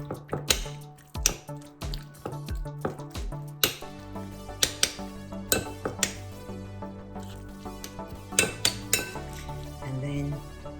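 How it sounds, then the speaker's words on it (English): Beef marinade with Shaohsing wine, garlic and ginger being mixed in a bowl, giving close, irregular clinks and knocks of utensil against dish with soft wet stirring between them. "Shaohsing wine, garlic and ginger. Mix it up first."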